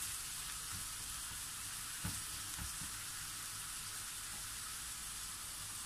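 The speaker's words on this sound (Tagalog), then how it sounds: "tuloy lang natin ang ating paggisa" Mapo tofu ingredients with tomato sautéing in a pan, a dense continuous hiss of frying with a few soft stirring knocks, close and steady.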